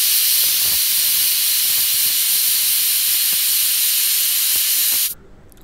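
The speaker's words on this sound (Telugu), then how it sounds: "కవర్ చేసిన తర్వాత 8 to 9 విజిల్స్ రానియండి" A pressure cooker whistle vents steam in a loud, steady hiss while lentils for dal makhani cook, holding for about five seconds before cutting off abruptly.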